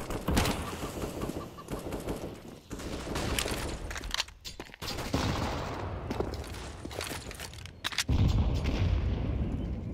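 Grenades going off in a Counter-Strike match on the Inferno map around Banana, Fnatic versus Ninjas in Pyjamas at DreamHack, as a busy string of loud blasts and sharp pops with brief gaps and a deep rumble at the end.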